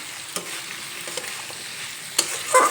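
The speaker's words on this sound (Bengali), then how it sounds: "সবজিগুলো মশলার সঙ্গে বেশ কিছুক্ষণ কষিয়ে নিয়েছি।" Vegetables and slit green chillies fry with spices in a pan, a close, even sizzle with scraping stirs and a louder clatter near the end, no voices.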